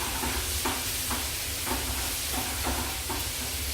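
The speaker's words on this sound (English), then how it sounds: "I will add the tomatoes. Then let it cook for a little bit." Tomatoes sizzling steadily in a hot frying pan over high heat, a continuous loud hiss with soft rhythmic stirring scrapes repeating about every half second.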